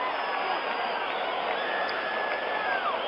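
A large baseball stadium crowd during a 1977 World Series game between the Dodgers and the Yankees, a steady broad roar that swells slightly and holds, heard as a continuous wash with no clear voices.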